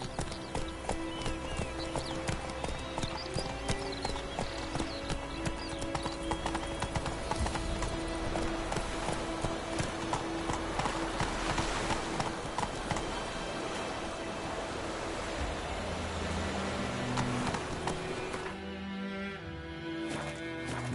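Roach, Geralt's horse in The Witcher 3, trots along with a steady, close clip-clop of hooves that runs throughout, layered over game music and ambience and fading out near the end.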